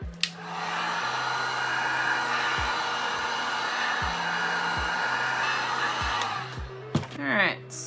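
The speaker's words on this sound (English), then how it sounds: "I would really highly recommend getting a good heat gun." A heat gun blows a loud, steady roar of hot air over resin for a 3D panel, running for several seconds before cutting off with a few clicks and handling noises.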